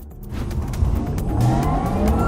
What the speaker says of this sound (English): This is what 761 horsepower sound like in the Porsche of the future.